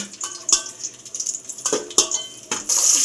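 Raisins and cashews frying in ghee for ghee rice, a close hissing sizzle broken by several sharp metal clinks of a spoon against the pan.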